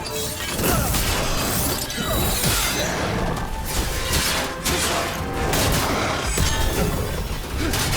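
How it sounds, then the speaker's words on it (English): Gunfire in Dragon Age: The Veilguard during a battle, a dense, continuous barrage of shots and crashing impacts that stays loud throughout with no pauses. "We're taking fire!"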